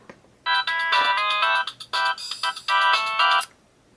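A phone ringtone plays loud and close, a bright electronic melody in quick repeated bursts of notes for about three seconds before stopping.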